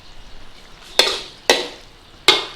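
Okra for bhindi masala cooking in a pan over a high flame, a faint background sizzle broken by three sharp hissing bursts as the pan is stirred, close and clear.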